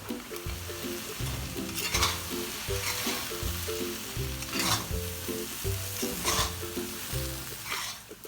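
Soya chunks sizzle with coconut in a hot pan while being stirred in steady repeated strokes, scraping sounds recurring every second or so, close and continuous.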